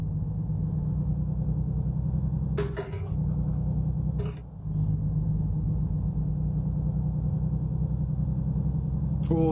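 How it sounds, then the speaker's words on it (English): A heavy truck engine in American Truck Simulator rumbles steadily at a low idle, deep and constant, broken by a couple of brief mechanical clunks. "this thing has a lovely thud to it. Listen to it. That bass drum of the engine"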